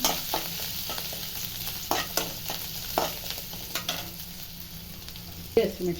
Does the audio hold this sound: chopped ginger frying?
yes